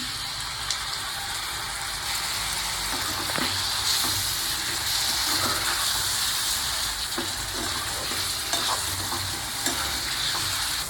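Hotel-style spicy chicken leg curry pieces frying and being stirred in a pan, a steady close sizzle with scattered scraping clicks throughout, no talking.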